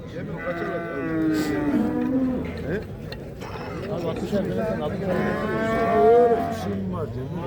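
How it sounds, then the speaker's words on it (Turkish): Brown Swiss crossbreed calves sold for sacrifice at the Sungurlu livestock market in Çorum moo loudly and repeatedly at close range, several long drawn-out calls overlapping, with people talking and general market bustle beneath. "4 tane mantofon melezi kurbanlık dana"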